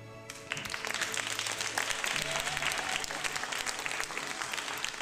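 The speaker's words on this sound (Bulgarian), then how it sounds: "Дами и господа, вашите аплодисменти и за Йордан Градинаров" An audience at a fashion show of maternity wear in Varna breaks into applause, a dense, loud clapping that starts abruptly and holds steady to the end, with a faint voice under it at first.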